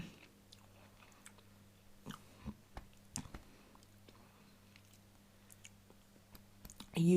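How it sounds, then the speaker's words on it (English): Slow, firm chewing of tough ostrich meat from a 2016 French 24-hour ration, with close, soft, irregular mouth clicks and squishes amid near silence and a low steady hum. "You have to chew a lot to be able to swallow that. It's so firm."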